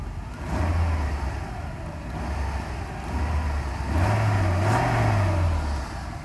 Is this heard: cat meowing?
no